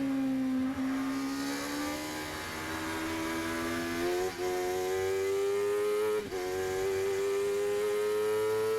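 A 750MC race car at Silverstone, its engine loud and close as it accelerates, the pitch climbing steadily through the gears with brief dips at shifts, continuous throughout.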